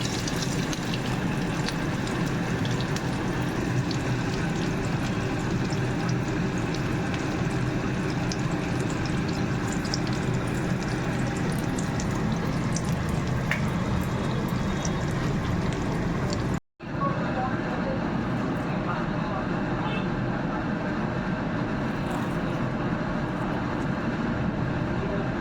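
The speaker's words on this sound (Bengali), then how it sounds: "এটাকে ডিপ ফ্রাই করতে হবে।" Pieces of Bengali-style rohu fish deep fry in hot oil with a continuous, dense sizzling hiss that holds steady, breaks off for a moment, then resumes just as strongly.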